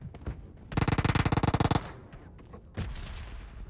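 Gunfire in the battle royale game PUBG: a rapid automatic burst of about a dozen evenly spaced shots, loud and close, followed by a single sharp report, set against quieter game ambience.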